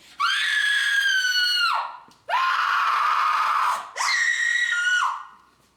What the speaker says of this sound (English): It is the cry of women, my good lord.